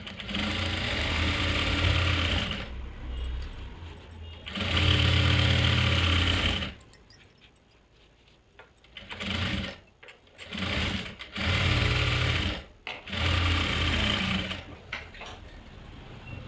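A sewing machine runs in several bursts, stitching the edge of a salwar, with loud whirring runs separated by short pauses and brief stop-start clatter, close up and with no talking.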